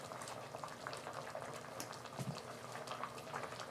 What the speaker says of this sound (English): This simmering water.